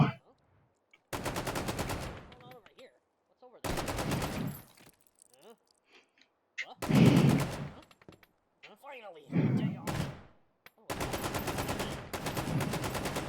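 FN SCAR rifle fire in the VR shooter H3VR comes in sharp rapid bursts separated by pauses, loud and close, with someone talking between the volleys.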